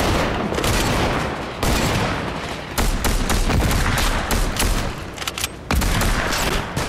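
Gunfire in Fortnite: a dense, continuous barrage of loud shots with rapid bursts and sharp single cracks, nearly unbroken from start to finish.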